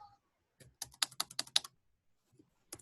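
Quick bursts of keystrokes on a computer keyboard, a run of about eight close, crisp taps followed by a pause and one more tap, with no talking.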